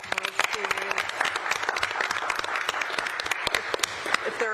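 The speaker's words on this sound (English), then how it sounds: "Round of applause, please." Applause at a county council in-district meeting, a steady crowd round of clapping filling the room with many overlapping hand claps, fairly loud, with some voices mixed in.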